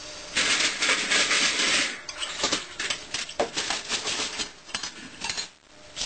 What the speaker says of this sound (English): I'm over here washing dishes.